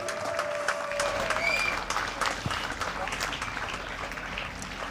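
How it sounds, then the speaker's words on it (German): A crowd applauds at a motorcycle race podium ceremony at the Lausitzring, with steady clapping spread across the space and a voice talking over it. "damit noch einmal Applaus hier für Josef Sattler und Luca Schmidt."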